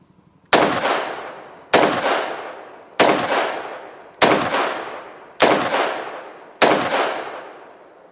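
A CMMG Mk47 Dissent rifle in 7.62x39 with a muzzle brake fires six loud, sharp shots at an even pace about one per second, each crack trailing off in a short echo.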